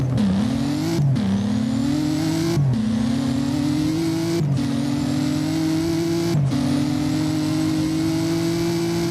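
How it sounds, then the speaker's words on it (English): TVR Sabre Speed12 in the Driving Empire racing game revs hard through repeated gear shifts, its loud engine tone climbing and briefly dropping at each change, steady and close with no talking. "Acceleration sound is pretty solid."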